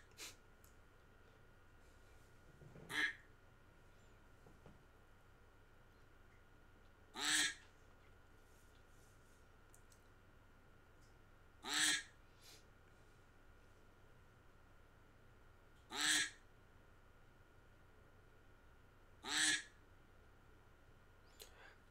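Ducks quack in five separate short bursts spaced several seconds apart during a duck race, each call fairly close and clear over a quiet, steady background.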